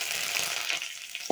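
Curry leaves dropped into hot oil with mustard seeds, cumin and dried chillies for a Chettinad banana flower kootu, crackling and sizzling in a steady close-up hiss with a brief louder pop at the end.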